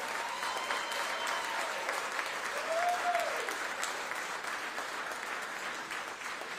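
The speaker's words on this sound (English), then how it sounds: "Can y'all give them a round of applause?" Crowd applause for district attorneys and investigators at an election-night primary event, steady clapping at moderate volume that holds throughout, with a faint whistle near the middle.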